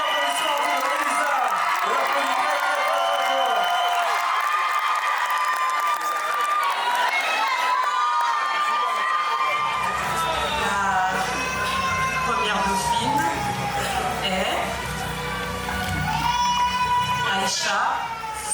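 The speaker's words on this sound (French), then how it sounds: "Beaucoup d'applaudissements pour Elisa." A crowd cheering and applauding a contestant at a Miss Sénégal France beauty pageant, with loud continuous whoops, shouts and clapping that sound close and dense, and voices mixed through the noise.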